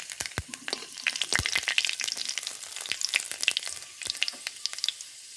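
Panch phoron spices crackling in hot oil for mung dal with vegetables, a busy run of sharp pops and spits over a steady close sizzle, with a few louder snaps standing out.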